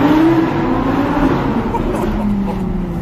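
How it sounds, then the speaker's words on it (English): A 2015 Audi R8 V10 Plus holding a steady, loud engine drone in an underpass, pitch rising slightly then settling, with a rumbling low end and reverberant hum throughout. "we're coming here in the new R8 V10 Plus for some sound"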